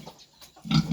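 A pig grunts in short, close bursts, a couple of low snorting grunts with the loudest one near the end, otherwise quiet farm surroundings.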